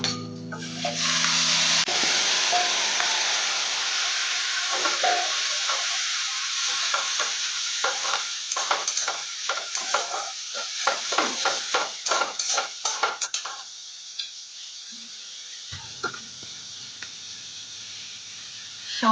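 Coconut paste fries and is stirred in hot oil in a pan for a mustard hilsa curry, a steady close sizzle with repeated scraping strokes of the spoon, then quieter bubbling, with no talk.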